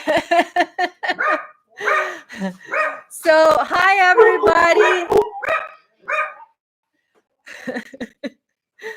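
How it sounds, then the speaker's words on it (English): Dogs bark and yip in quick bursts close to an indoor microphone, while someone speaks briefly over them before the room falls quiet. "dogs are saying hi."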